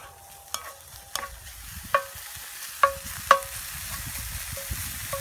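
French fries frying in grease while being stirred: a soft sizzle beneath a handful of distinct metallic clinks and scrapes of the utensil against the pot, spaced roughly a second apart, close and clear with no talking.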